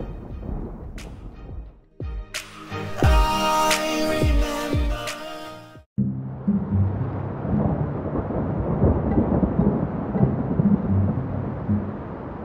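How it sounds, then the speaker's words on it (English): Thunder rumbles and cracks loudly over a few seconds, then falls into the steady hiss of heavy rain that continues to the end. "Oh no, that's thunder!"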